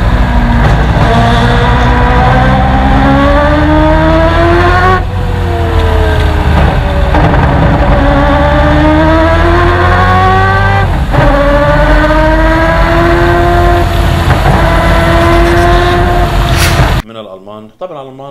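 A rotary-engined car revs hard and very loudly at close range, its high pitch climbing in long sweeps, dropping briefly at gear changes, then rising again before cutting off abruptly near the end.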